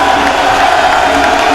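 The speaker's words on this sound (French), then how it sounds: "L'ambiance était survoltée dans la salle avec des chants et des acclamations pour le président de la République" A packed hall crowd cheers and acclaims the President of Côte d'Ivoire and the first lady, a dense, loud, continuous roar of voices with shouts rising throughout.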